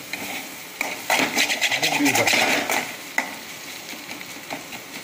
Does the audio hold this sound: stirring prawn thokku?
yes